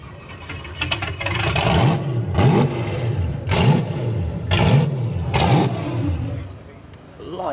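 A hot rod engine is revved up in the pits at an NSRA hot rod drags show, with several sharp, loud throttle blips close by. Each one rises and falls in pitch, with voices under the revs.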